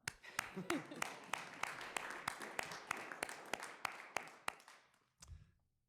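Scattered clapping from a school board meeting audience, a few distinct sharp claps standing out over softer applause that thins and fades to quiet near the end.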